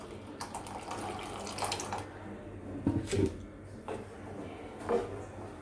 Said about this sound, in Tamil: இந்த ப்ராக்கலி வேக வச்ச தண்ணி கொஞ்சம் இருக்குது, அதுவும் ஊற்றிடலாம்.